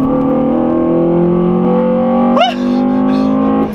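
A Honda Civic Type R with an HKS intake revs hard through VTEC, loud and close, its engine note climbing steadily, then dropping sharply with a quick intake burble before rising again.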